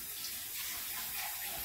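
Water runs from a kitchen tap during batch cooking of a tomato-sauce dish, a soft continuous hiss heard briefly and alone at low level.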